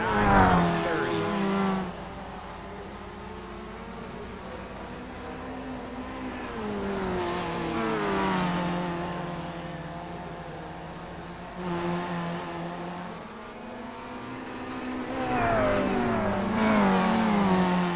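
Dirt-track race cars roar around the oval on lap 9 of 30, their engines rising and falling in long revving sweeps as they pass, while an announcer talks over the racing.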